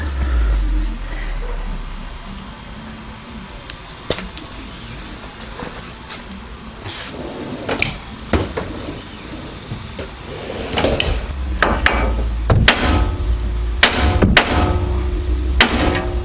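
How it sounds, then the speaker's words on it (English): Several sharp metallic hammer strikes ring out at irregular intervals, knocking a part loose while installing a leveling kit on a Silverado or GMC Sierra pickup, growing more frequent toward the end, over a low background rumble. "That way I can hit it right here with a hammer and knock it loose."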